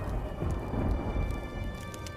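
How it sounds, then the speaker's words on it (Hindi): Thunder rolls as a deep, continuous rumble over dense, steady rain, loud and close throughout with no pauses. "आसमान में काले बादल छा जाते हैं और जोर जोर से बिजली कड़कने लगती है"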